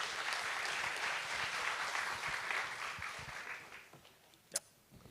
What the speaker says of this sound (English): Round of applause for the groups that just came up.